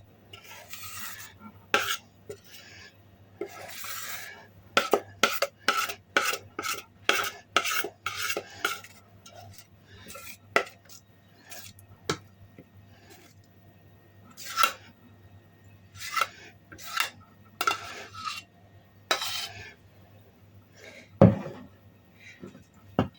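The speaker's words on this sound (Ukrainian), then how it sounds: "вимикаємо вогонь і переливаємо наш сирок в ємність, яку ми підготували." Homemade melted cheese made from cottage cheese is poured from a pot into a prepared container, with repeated close scraping and clinking of a spoon against the pot between quieter pauses.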